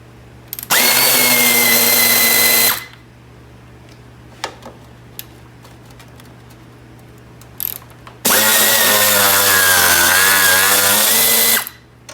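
Power tool whirring in two loud, sustained bursts, about two and three seconds long, while radiator shroud bolts come off a Chevy S10, with faint clicks and handling noise in the quiet gap between.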